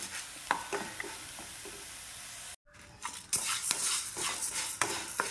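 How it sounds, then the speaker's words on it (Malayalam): Horse gram dry-roasting in a pan while being stirred, with scraping strokes and small crackling pops, a brief silent gap midway and then livelier stirring. "നല്ലൊരു മണം വരും മുതിര വറുക്കുമ്പോൾ."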